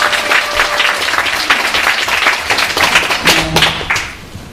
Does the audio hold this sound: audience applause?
yes